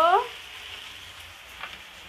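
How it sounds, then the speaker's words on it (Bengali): Chili powder and spices frying in a pan while being stirred give a soft, steady sizzle, with a brief high tone at the start and a faint scrape later on. "এখন এটাকে নাড়িয়ে মিক্স করে নিব"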